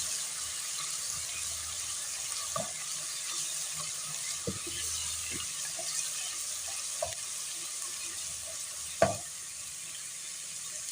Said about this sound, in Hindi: अच्छी तरह से भून लेंगे ताकि लहसुन की स्मेल खत्म हो जाए।